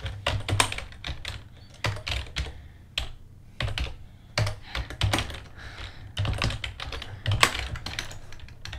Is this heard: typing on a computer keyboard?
yes